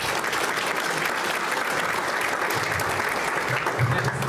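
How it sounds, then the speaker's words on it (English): Sustained audience applause at a panel event at Envision Iowa 2022, a dense, steady wash of clapping filling the whole stretch, with faint voices surfacing briefly near the end. "Let's give him another round of applause."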